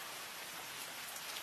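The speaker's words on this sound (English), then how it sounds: "the soft patter of rain on the" Soft, steady rain patters evenly on a surface with no breaks, a quiet continuous hiss of drops and no voices.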